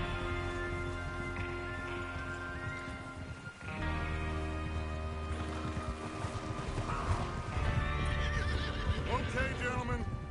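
Horses in the video game Red Dead Redemption 2 neigh and whinny with hooves clopping beneath, several whinnies rising over a steady bed of game music and voices.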